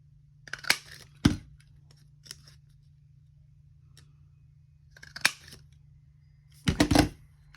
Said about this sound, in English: We can go ahead and cut out our notch using our 1-inch punch.